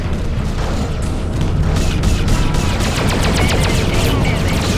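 Dense, continuous spaceship gunfire in the space combat game Freelancer, with rapid overlapping laser shots and booms forming a loud, unbroken barrage.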